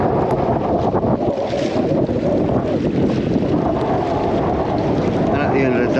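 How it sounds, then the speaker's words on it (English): Strong wind buffets the microphone on a fishing pier at Town Quay, Southampton, a steady loud rushing roar that lasts throughout with no break. "Wind has definitely eased a little bit."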